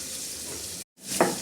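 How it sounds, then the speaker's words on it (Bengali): Hilsa fish from the Padma sizzles in hot oil with a steady, close hiss that breaks off briefly and then returns with a small crackling burst. "এখানে মাছ ভাজা হচ্ছে"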